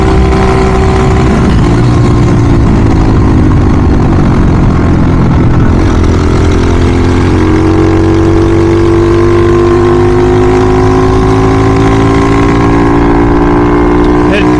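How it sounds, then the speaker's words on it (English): SSR 110 pit bike fitted with Grom parts and a loud, ridiculous exhaust, its engine running steadily with a droning, shifting pitch throughout, up close and loud, with some voice mixed in. "just because the exhaust is kind of ridiculous"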